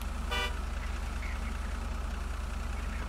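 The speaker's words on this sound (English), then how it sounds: "Is that you honking?" A brief car horn toot sounds once in a video game, over a steady low idling engine rumble that continues throughout.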